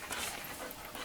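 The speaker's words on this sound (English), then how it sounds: "These are the dogs, Echo and RJ." Dogs Echo and RJ pant close by inside a bus on a cold snowy day, a quick run of short breathy huffs that is over in about a second.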